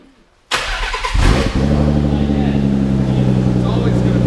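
A Nissan 300ZX engine cranks and fires up after near silence, catching with a burst and settling into a loud, steady, close idle, with voices talking over it.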